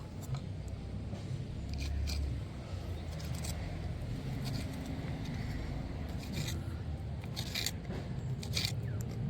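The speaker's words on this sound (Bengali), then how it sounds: "এই চিংড়ি মাছগুলোকে ছোট ছোট করে আমি জব করে নেব" A knife chops peeled prawns into small pieces on a board, giving quiet irregular taps over a low background hum.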